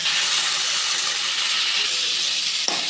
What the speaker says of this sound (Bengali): এটা জল দিয়ে দিলাম